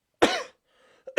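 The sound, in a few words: man coughing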